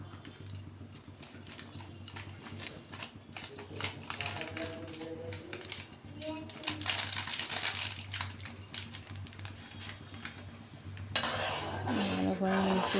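A utensil stirs salted water with biryani masala in a cooking pot, giving repeated light scraping and clinking strokes against the metal over a steady low hum, with a louder clatter near the end.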